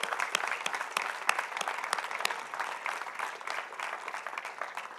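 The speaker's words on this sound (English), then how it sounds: "Let's give ANC 6D a big round of applause for their leadership too." A crowd applauds at a library opening celebration, many hands clapping steadily with sharp individual claps standing out, fairly distant and even for several seconds with no talk over it.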